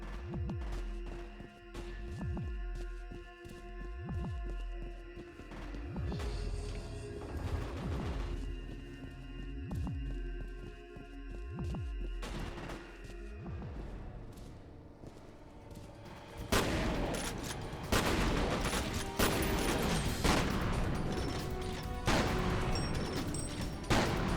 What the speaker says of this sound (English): Sergeant, we're taking fire.